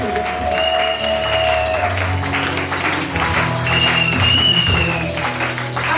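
Congregation applauding during a Sunday church service, loud sustained clapping from a crowd mixed with cheering voices and sustained musical tones underneath, continuing steadily throughout.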